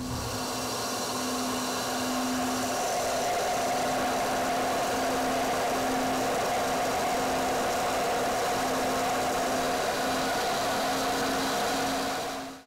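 Steady, loud rushing airflow from a flowbench pulling air through the exhaust port of an LV3 V6 cylinder head, a continuous droning roar with a constant hum that holds for about twelve seconds before cutting off.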